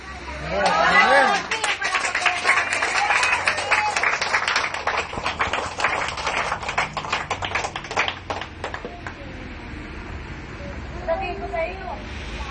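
A church congregation applauds, many hands clapping in a dense, lively patter that swells early and gradually thins out, with voices chattering over and between the claps.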